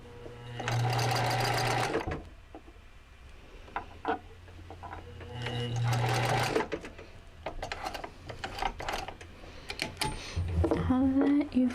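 A sewing machine stitches around a piece of fabric in several loud, close bursts of rapid whirring, separated by pauses filled with clicks and handling noises, and a voice talks quietly between the runs.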